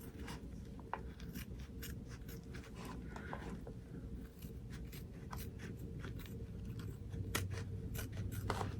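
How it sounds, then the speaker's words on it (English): Scissors snip through thick embroidered fabric beside a zipper on an in-the-hoop zipper bag, giving a close, repeated series of sharp cuts and scraping blade strokes at an uneven pace. "I'm going to cut between those two without cutting my zipper"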